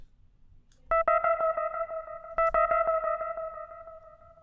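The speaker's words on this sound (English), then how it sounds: "these modes over here determine the type of echo" Ableton's Echo effect on a plucked synth tone: two sharp tonal hits, each followed by a train of evenly spaced, fading repeats, clean and clear with no voices.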